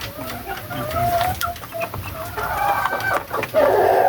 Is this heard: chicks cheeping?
yes